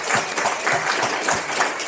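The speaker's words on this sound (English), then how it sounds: "Round of applause for Mr." A room of attendees at an electric vehicle association meeting breaks into applause for a longtime club president, dense and close clapping that holds steady for a couple of seconds.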